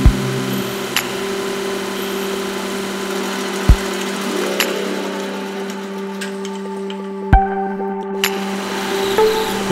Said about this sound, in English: Back on the lathe, the center portion was taken down to the final dimension.